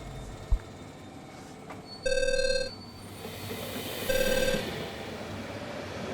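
An outgoing call to a friend rings on the line: two separate bursts of ringing tone, each under a second, over a faint background hiss.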